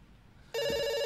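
A telephone rings in the video game Dr. Langeskov, cutting in sharply halfway through with a loud, steady electronic ring that holds to the end, with no talking.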